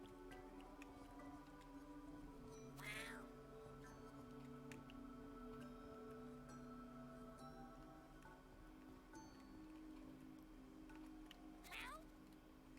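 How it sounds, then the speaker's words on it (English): A cat meows in the YIIK video game after being thrown, two short meows several seconds apart over a steady hum of game music. "You can throw a cat."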